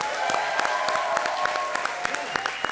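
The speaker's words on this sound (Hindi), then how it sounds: "परेश जी के लिए एक बार जोरदार तालियां।" Loud studio audience applause at a Hindi comedy show welcoming film stars, dense continuous clapping with sharp individual claps throughout, steady and close, with a faint musical tone underneath.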